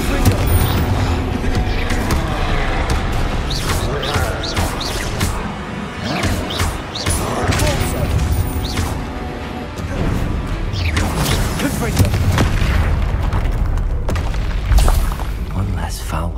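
Spell blasts and explosions from combat in the Hogwarts Legacy video game, a dense run of booms, crashes and impacts with a continuous rumbling action soundtrack and voices speaking over the fight.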